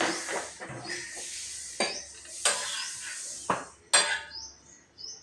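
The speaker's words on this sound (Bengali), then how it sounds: "গ্যাসে একটি তাওয়া বসিয়েছি, তার মধ্যে লাউয়ের পরোটাটি দিয়ে দিলাম।" Bottle-gourd paratha made with wheat flour roasts on a tawa over a gas flame, a soft sizzle behind several sharp metallic scrapes and clinks from a spatula, close by and without speech.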